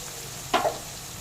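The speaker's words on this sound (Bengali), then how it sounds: "সবজিগুলো যে নরম হয়ে গেছে, এবার একটু নেড়ে ভেজে নেব।" Softened vegetables for veg chowmein are stirred and fried in a pan, giving one brief, soft sizzling scrape over a quiet, steady background hiss.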